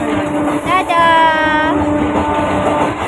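Steady rumbling clatter inside a moving passenger train carriage, a continuous noise bed running throughout, with voices and a child's high tonal call over it.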